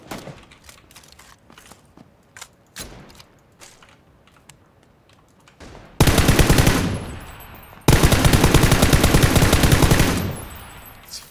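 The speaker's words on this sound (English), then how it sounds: "Just look at that burst. Look how far apart the bullets are." Rapid automatic gunfire in a video game, with scattered clicks first and then two long loud bursts of an unstable gun separated by a brief pause, heard up close.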